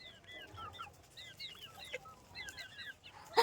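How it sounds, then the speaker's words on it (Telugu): Chickens in a grandmother's garden at feeding time give repeated short clucks and chirpy calls close by, with a louder rustle or thump at the end and no talking. "చూడండి పరిగెత్తుకొని వచ్చేసాయి కోళ్ళు మేము రాగానే"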